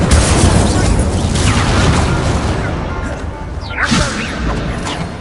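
An Incendio fire spell blasts in the wizarding game Hogwarts Legacy, a loud booming burst with crackling and whooshing combat effects that gradually fade, with a brief whip-like swish near the end.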